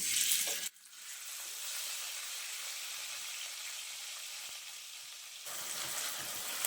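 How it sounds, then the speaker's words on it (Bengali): Onion paste drops into hot, lightly salted oil with a brief burst, then settles into a quiet, steady sizzling hiss that swells again near the end. "তেলটা গরম হয়ে গেছে, এখন আমি পেঁয়াজ বাটাটা দিয়ে দিচ্ছি।"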